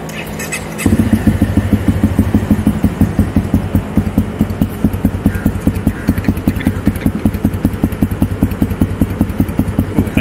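A Honda CRF250 Rally motorcycle engine starts up and settles into a steady, rhythmic idle, close and loud, with a regular chugging pulse throughout.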